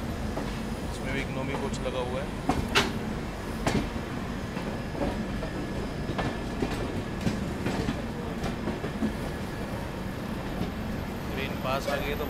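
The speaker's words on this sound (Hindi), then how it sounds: "सुबह के सामने से जो ट्रेन आ रही है, ये है 14629 सतलुज एक्सप्रेस" Passing train, the 14629 Satluj Express, rumbling by with steady clatter and rail noise, with occasional sharper clicks as the cars roll past, close and continuous throughout; people talk over it at times.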